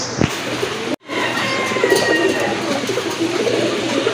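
Fancy pigeons at a market coo in low, throaty, repeated calls against steady outdoor background noise, after a brief sharp click near the start.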